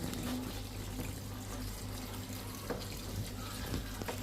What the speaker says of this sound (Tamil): நைஸாக போகுதுல தண்ணி